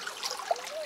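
Spring water trickles out of a Maya spring in jungle near Palenque, a soft, close dribbling with light splashy bubbling, brief and fairly quiet.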